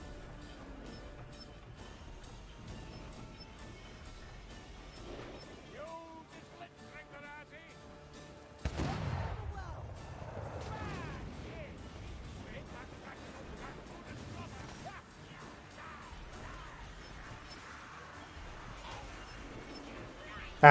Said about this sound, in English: So we need to fire the cannon.